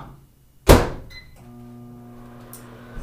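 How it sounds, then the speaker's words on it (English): A microwave oven softening hard butter for peanut butter chocolate chip cookies gives a sharp door thunk, a couple of short beeps, then a steady low electric hum running alone to the end. "Sometimes when the butter is too hard, I will put it in the microwave to soften it up."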